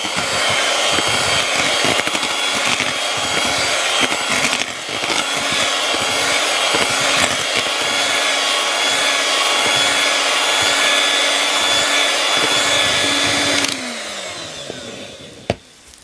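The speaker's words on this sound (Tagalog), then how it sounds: "gamitin natin uli itong electric beater para mag-mix siyang mabuti." An electric hand beater whirs continuously through pandan puto flan batter, a steady high motor buzz with slight rattling that stops abruptly near the end, with no talking.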